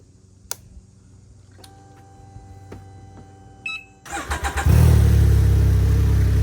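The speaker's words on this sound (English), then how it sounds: "First thing we're going to do is go ahead and run the bike to get it up to operating temperature." A 2022 Can-Am Ryker 900 gives a few electronic beeps and clicks, then its starter cranks in short bursts before the engine catches and settles into a loud, steady idle close by.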